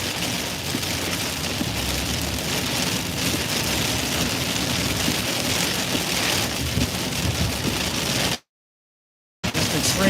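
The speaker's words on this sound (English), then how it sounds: "Heavy, heavy rain." Heavy rain pours steadily during a tornado-warned storm with flooding in Alexandria, Louisiana, a loud, dense, continuous roar of water on surfaces with rumbling undertones, cutting out briefly near the end before resuming.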